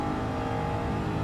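A race car engine in Gran Turismo 7 is held high in the revs, just past 6,500 rpm, in fifth gear climbing a hill. It is a loud, steady, buzzing drone with no speech.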